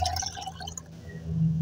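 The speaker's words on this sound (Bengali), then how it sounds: "এখন এই পাত্রের মধ্যে মিক্সড তরলটা ঢেলে দেব।" Mixed homemade liquid organic fertilizer made with leftover rice poured into a larger container: a brief close splashing pour that settles into a low trickle, no voices.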